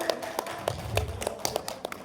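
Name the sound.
audience applause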